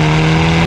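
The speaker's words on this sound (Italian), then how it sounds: "Sento una macchina che arriva" A car engine revs hard up close, giving a loud, sustained tone that cuts off abruptly after less than a second.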